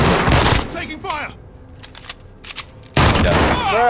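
Gunfire in the Call of Duty: Modern Warfare video game, loud bursts of shots at the start and again after a pause, with scattered quieter pops between them and voices talking over the action.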